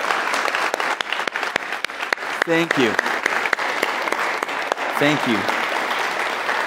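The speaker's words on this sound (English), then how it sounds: "And can we clap for them?" An audience claps warmly for social workers standing to be recognised, a dense, steady round of applause throughout while a voice briefly speaks over it.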